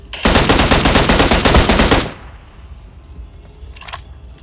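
Automatic weapon fire in the mobile battle royale game BGMI, a loud, close, rapid burst of about two seconds that stops abruptly and is followed by quiet background noise with one faint short sound.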